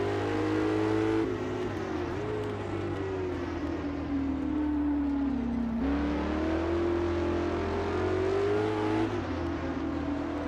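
Historic sportscar engine lapping the Norisring in Assetto Corsa, a steady loud drone whose pitch sags and climbs through gear changes, with shifts near two, six and nine seconds and no talk over it.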